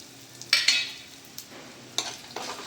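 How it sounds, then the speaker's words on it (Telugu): A tempering of dried red chillies and asafoetida frying in oil for tamarind pulihora, with a soft sizzle broken by several sharp spoon stirs and scrapes against the pan. "తాలింపు వేగింది ఇప్పుడు కొంచెం ఇంగువ"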